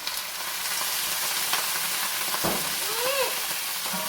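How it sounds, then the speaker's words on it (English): Wine splashed into a hot pan sizzles steadily and loudly throughout, with a few clinks of utensils against the pan and a faint voice briefly in the background. "I'm going to take this hot pan, put a little wine in it"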